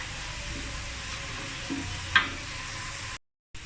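Potato pieces fry in plenty of hot oil, giving a steady, dense sizzle. A brief stirring scrape sounds about two seconds in, and then the sound cuts off abruptly near the end.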